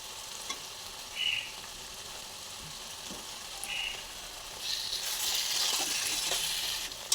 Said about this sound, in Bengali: সব একসাথে এবার ভালোভাবে কষিয়ে নেব যতক্ষণ না মশলা থেকে তেলটা ছেড়ে আসে